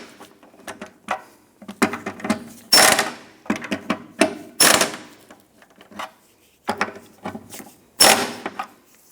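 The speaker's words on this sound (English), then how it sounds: "tighten down the nuts" Nuts being tightened on a 1997-2006 Jeep Wrangler transmission mount, heard as repeated bursts of close ratchet clicking with short pauses between strokes and light mechanical clatter.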